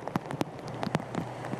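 Heavy rain falls in Austria amid flooding in Carinthia and Styria, heard as a faint, scattered patter of drops striking a surface over a soft wet hiss.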